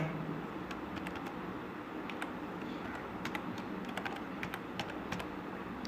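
Rapid, irregular key clicks come from a computer keyboard as data is typed in, close and crisp over a faint steady background hiss, with no speech.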